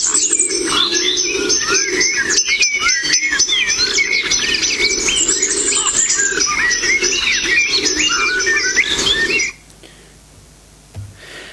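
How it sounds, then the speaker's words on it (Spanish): Blackbirds sing in a humid, misty laurel forest on La Gomera, dense overlapping whistled phrases echoing loudly and continuously before cutting off abruptly into quiet. "como suenan los mirlos"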